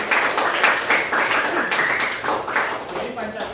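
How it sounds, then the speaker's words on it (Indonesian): A class claps for a student, a steady patter of many hands lasting several seconds, with voices talking over the applause. "beri tepuk tangan buat Kayla"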